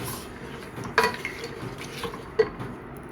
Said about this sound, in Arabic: هنحمصهم شويه مع السمنه والزيت